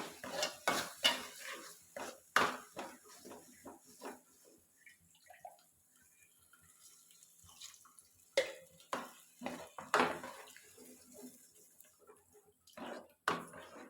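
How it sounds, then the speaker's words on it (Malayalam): Ginger curry being sautéed in oil in a pan, heard as a string of sharp metallic clinks and scrapes of a spoon against the pan in irregular bursts, with quiet gaps between and no talking. "ഇത് നല്ലപോലെ എണ്ണയിട്ടൊന്ന് ഒന്നും കൂടെ ഒന്ന് വഴറ്റും"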